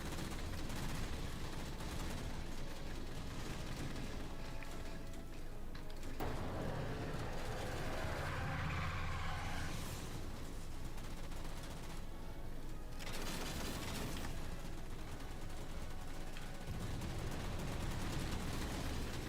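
A salvo of rockets fired in the Halo 4 video game, heard as a sustained roar of launches and blasts over a constant loud battle backdrop.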